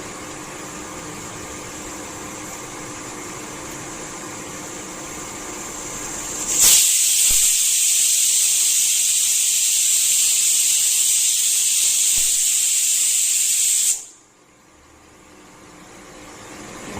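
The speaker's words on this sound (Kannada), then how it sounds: "ವಿಷಲ್ ಆಯಿತು. ನಾನು ಕುಕ್ಕರ್ ಆಫ್ ಮಾಡ್ತಾ ಇದ್ದೀನಿ." A pressure cooker on a kitchen stove bursts into a loud, sustained whistling steam hiss that holds steady for about seven seconds, then cuts off abruptly, with a quieter cooking hiss before and after.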